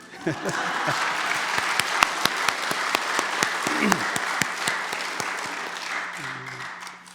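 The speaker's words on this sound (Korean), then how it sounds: "큰 박수로 환영해 주셔서 정말 감사합니다." Warm applause from a church congregation welcoming a speaker at a Sunday service marking the church's 49th anniversary, with a few loud distinct claps standing out near the front, then tapering off at the end.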